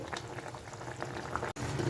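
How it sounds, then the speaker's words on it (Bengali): Curry gravy with onion and fried cumin powder bubbles in a pan on the stove, a close continuous simmering burble with one brief dropout near the end. "দশ মিনিট ঝোলটাকে এইভাবে ফুটিয়ে নেব"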